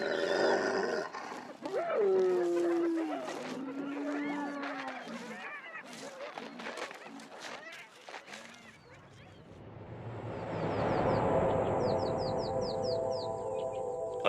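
Spotted hyenas give rising and falling whooping calls in the wild, close and loud, with a second stretch of chattering calls and bird chirps behind them.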